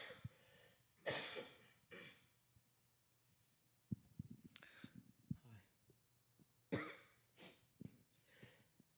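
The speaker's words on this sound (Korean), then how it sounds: "크게 아프진 않은데 기침이 좀." Several harsh coughs and throat clears from a speaker during a church sermon break out in short bursts, with quiet breathing and faint murmurs between them.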